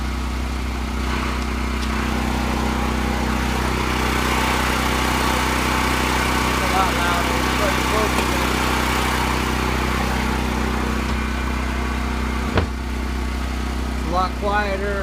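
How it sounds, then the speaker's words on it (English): An LP generator for a coffee food truck running inside an opened sound box, giving a steady, loud, close engine drone with a continuous hum throughout and brief voices over it. "so let's open it up so they can see what it sounds like"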